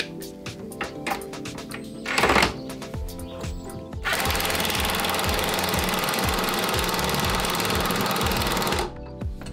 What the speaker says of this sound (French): Clé à choc.